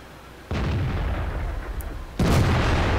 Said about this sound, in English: That would have been a miracle to hit that shot with a Soviet 122